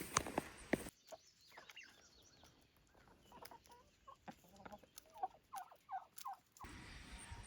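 Chickens cluck and chatter nearby in a quiet yard, a scattered series of short, faint calls that grow a little busier toward the end.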